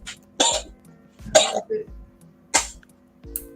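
Several harsh coughs and throat clears come in irregular bursts, close and loud, with faint background hum between them.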